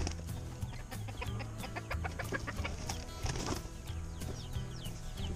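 Hens cluck and chatter inside a coop, many soft overlapping calls over a steady low hum, fairly close.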